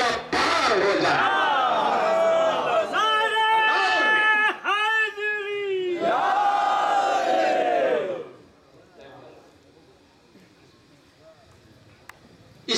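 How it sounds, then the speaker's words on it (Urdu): A large religious gathering shouts the slogan Ya Ali together in loud, sustained collective cries for about eight seconds, then the voices drop away to a quiet room with faint murmurs. "نعرے یا علی لگا دو"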